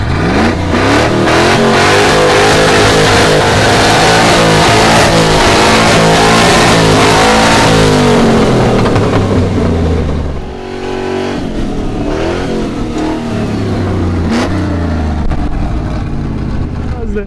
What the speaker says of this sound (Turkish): Ver bir 8 silindir sesi.